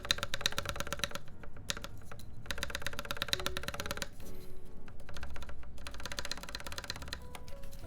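Typing on a custom mechanical keyboard gives quick, clacky keystrokes in bursts with short pauses, close and clear, with deeper spacebar thocks mixed in.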